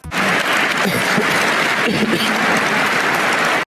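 Sustained, loud applause from a large audience fills a hall at the presentation of a Russian super-missile, a dense, steady roar of many hands clapping without a break.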